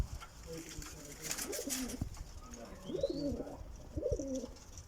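Pigeons coo in low, throaty bursts repeating every second or so, close by, with a steady background hiss and a few faint chirps.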